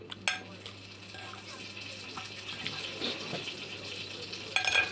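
Egg frying in a pan, a steady soft sizzle and crackle running throughout with a few sharper pops and clinks near the start and end, close and moderately quiet.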